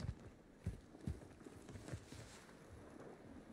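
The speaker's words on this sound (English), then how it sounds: "Hear those footsteps so good." Footsteps in the shooter game Warzone 2: a run of soft, evenly spaced thuds, about four or five steps, fairly quiet and close, over a faint background hum.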